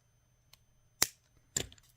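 Two crisp snips of scissors or wire cutters trimming beading wire while making drop earrings, separated by about half a second, close and fairly soft with no talk.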